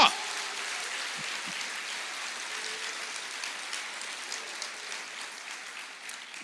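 A church congregation applauds during a Portuguese-language sermon, a steady broad patter of clapping sustained throughout at moderate level, like rain on a surface, with no clear talk over it.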